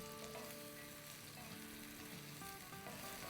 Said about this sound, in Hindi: लहसुन के साथ क्यूकम्बर और हरी मिर्चें सिरके के साथ जो भून रही है